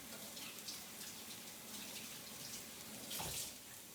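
A tap runs steadily into a sink during hand washing, a soft continuous stream of water with a brief louder splash near the end, heard alone without talk.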